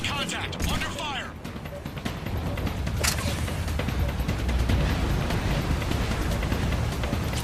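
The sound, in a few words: gunfire in the video game Mass Effect 3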